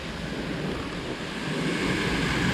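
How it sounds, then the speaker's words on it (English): Waterfall at the bass pond on the Biltmore Estate, a steady broadband rush of falling water heard close and fairly loud, swelling slightly toward the end, with some wind on the microphone. "the bass pond waterfall."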